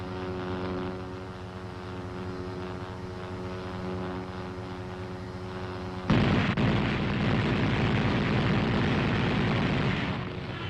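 An M551 armored reconnaissance airborne assault vehicle fires its caliber .50 machine gun. A steady engine drone gives way to sudden loud, rapid automatic fire that rattles on for several seconds.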